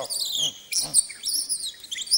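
Bright, quick trills of imitated robin birdsong produced with a flint stone, a run of high chirping phrases with short gaps, fairly close and clear, with faint low murmurs beneath.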